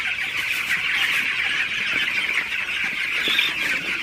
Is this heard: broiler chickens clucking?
yes